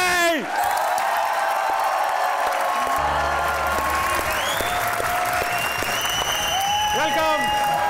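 A studio audience on a talk show claps loudly and steadily, with some cheering, while music plays along and stays under the clapping throughout.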